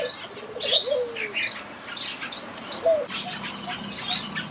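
Zebra finches chirp in a large aviary with a variety of finches, scattered high tweets and short calls rising out of a steady background hiss, with no voices.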